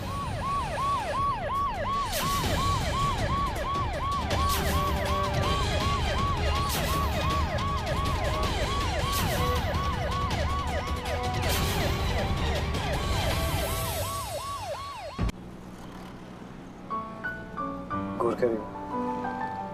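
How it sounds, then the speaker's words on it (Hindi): A loud wailing ambulance siren cycles rapidly up and down over traffic and vehicle noise, then cuts off abruptly, leaving quieter street sounds and brief voices. "जल्दी से एम्बुलेंस बुलाओ।"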